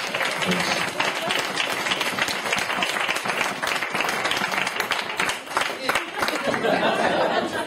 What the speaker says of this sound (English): have a round of applause for our beautiful bridesmaids